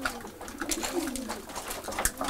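Racing pigeons in a loft coo softly nearby, repeated low throaty calls over a faint background of wing rustles and shuffling.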